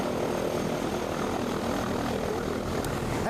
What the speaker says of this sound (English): the next time that you see this plane or any other plane do a formation fly past